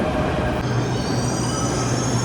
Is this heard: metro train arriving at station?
yes